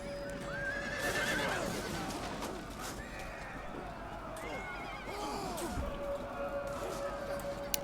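Imladris cavalry horses in a Total War video game battle, with repeated neighing and whinnying over thundering hooves and the clash of combat, loud and chaotic throughout.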